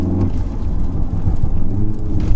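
A throaty, tuned 600bhp Volkswagen Golf R engine rumbles and revs under acceleration, loud and close, with a deep, uneven growl throughout.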